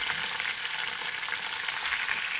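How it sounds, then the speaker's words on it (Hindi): Chilli cheese bites frying in hot oil, a steady, close bubbling sizzle that continues without a break and with no voices. "देखिए अच्छे से फ्राई हो रही है"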